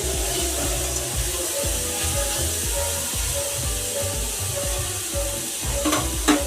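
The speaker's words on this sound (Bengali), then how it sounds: "এটা ততক্ষণ ভাজা ভাজা হোক" Ingredients for homemade fried rice frying in a pan, a steady broadband sizzle with occasional stirring scrapes, close and continuous, under background music, with no talking.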